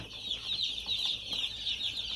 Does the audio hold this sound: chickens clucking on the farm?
yes